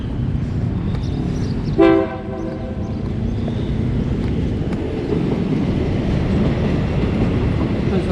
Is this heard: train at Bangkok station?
yes